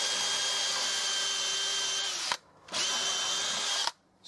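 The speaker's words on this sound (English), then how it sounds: "I'm going to put a screw in the top first" A power drill drives a screw into a wooden outdoor bench leg, a loud steady motor whine in two runs, the first long and the second shorter, separated by a brief pause.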